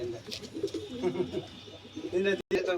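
Rampuri pigeons cooing nearby in a series of soft, rolling calls, with people talking over and between them.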